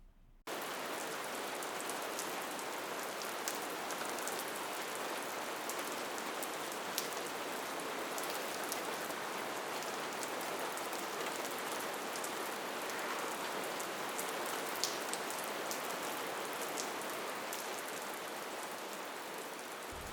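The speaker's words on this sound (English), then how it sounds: "All right, so here we are in the rain." Pouring rain falls steadily outdoors, a dense, even hiss of drops hitting surfaces that holds at a constant level from start to finish with no voices.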